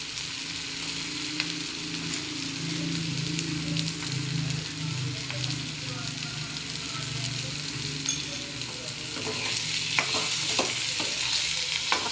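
Ridge gourd is stirred in a pan with black masala over a constant sizzling hiss, with scraping and a few light clicks toward the end.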